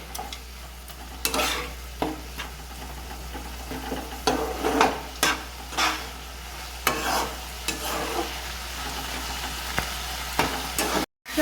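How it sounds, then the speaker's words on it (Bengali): Chicken filling sautéing in a pan with a little sugar and ground black pepper, a steady sizzle broken by repeated scraping stirs of a spoon, close and fairly loud throughout. "সব কিছু দিয়ে আবারও ভালো করে একটু কষিয়ে নেব।"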